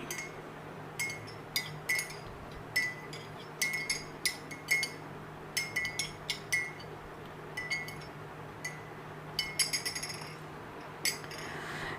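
A spoon clinks repeatedly against a glass while a drink is stirred, bright tinkling taps arriving in irregular bursts, close and clear over a quiet background hum, with no one talking.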